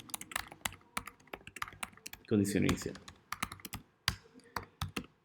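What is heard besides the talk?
typing on a computer keyboard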